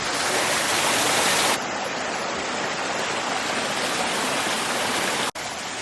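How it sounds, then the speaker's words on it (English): Waterfall on a short forest loop trail in Redwood National Park, pouring as a constant, loud, close rushing hiss. It dips in level partway through and cuts out briefly near the end. "here's your waterfall"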